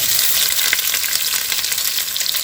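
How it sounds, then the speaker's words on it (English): Onions dropped into hot olive oil in a soup pot, a loud, close, crackling sizzle with busy spattering throughout, no talk. "I'm going to add the onions"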